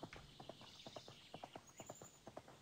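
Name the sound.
horse hooves clip-clopping in video game Horse World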